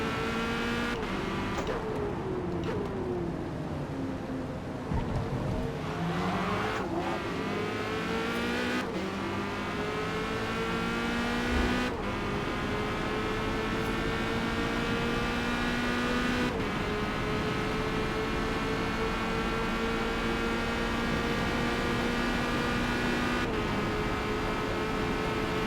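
Corvette C8.R race car lapping Le Mans in Forza Motorsport, engine droning and rising through gears with sharp shift cuts and downshifts, loud and continuous from the cockpit.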